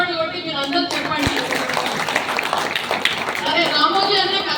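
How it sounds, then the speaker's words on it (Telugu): An audience gathered under a tree in Telangana claps hands together, a dense patter of applause mixed with voices and some lively chatter, fairly close and sustained throughout. "మీరందరూ కూడా ఒకసారి చప్పట్లు కొట్టి మీరు అందరూ చెప్పండి"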